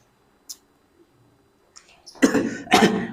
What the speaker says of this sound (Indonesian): Maaf agak batuk.